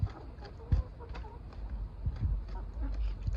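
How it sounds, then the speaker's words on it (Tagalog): Chickens cluck and peck close by while eating, in soft, scattered bursts, with low thumps and a few voices nearby. "Ang lakas kumain ng mga manok."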